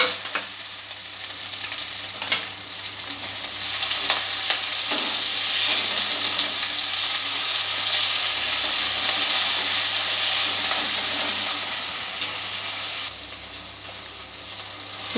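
Onions sautéing in a pan for matar ghugni, a steady broad sizzle with faint stirring clicks, holding loud and even for most of the stretch before easing slightly near the end; no voices.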